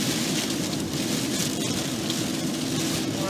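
Heavy rain pours steadily during a storm, a dense, even roar that holds at the same level throughout with no voices.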